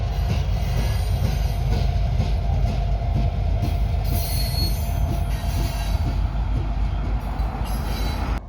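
A local freight unit assembles a consist in BNSF's Gavin rail yard, its wheels squealing loudly and continuously over a heavy rolling rumble and faint clanks, with no one speaking.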